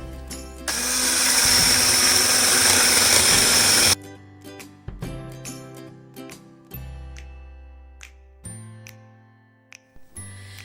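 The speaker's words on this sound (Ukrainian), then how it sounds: "Тепер ми додаємо одне яйце та взбиваємо міксером до однорідності." An electric hand mixer beating gingerbread batter with an egg whirs loudly and steadily for a few seconds, then cuts off and restarts in shorter bursts amid clinking.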